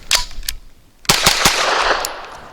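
A Grand Power Stribog SP9 A3 carbine fires Norma Hexagon 124-grain 9mm rounds: several sharp, loud, close shots in an irregular string, two early and a tighter cluster after a brief pause.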